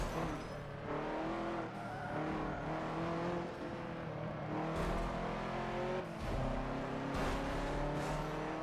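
A racing car engine in the video game Forza Motorsport 7 drones at a steady high pitch, shifting and revving with occasional bursts, continuous and loud with no talking.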